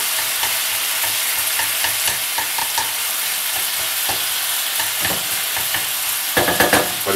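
Stuffing for a stuffed poularde browns in a hot pan, a constant sizzle broken by repeated spatula scrapes and stirring clatters, busier near the end.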